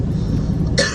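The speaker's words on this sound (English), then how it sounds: "You'll have to excuse my cough." A single close cough from a trucker in the cab of his truck on the highway, a sharp burst near the end over the low steady drone of the engine.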